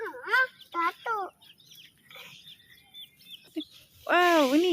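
Chickens give several close, loud squawking clucks in short bursts, with a longer harsh call at the end and quieter sounds between.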